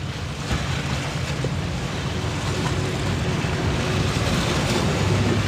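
Ocean waves wash in a steady, dense rush of surf, with wind noise buffeting the microphone and a faint boat engine hum beneath, all fairly close and continuous.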